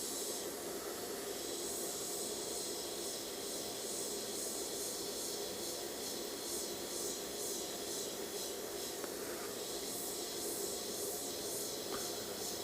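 Steady airbrush hiss while spraying paint for a monochrome portrait, a faint continuous airy spray with no pauses and no voices.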